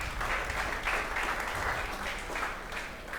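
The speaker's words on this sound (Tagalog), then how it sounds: "Palakpakan po natin si Jesus." A church congregation claps together in a continuous burst of applause that swells slightly in waves and carries on steadily throughout, without any voices.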